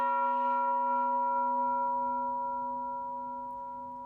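A metal bundt cake pan bought at a yard sale is struck once with a mallet as a percussion instrument, ringing out loud and bell-like with steady sustained tones that slowly fade, heard alone.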